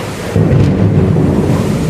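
A deep rumble of thunder rolls through a heavy rainstorm over a deserted street, loud and close above a constant roar of pouring rain, with no talking.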